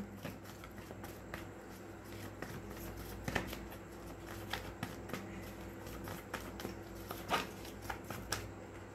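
Tarot cards are shuffled, with soft rapid riffles and flicks in a quiet room, repeated sharp slaps as cards are tapped and laid down, no talking.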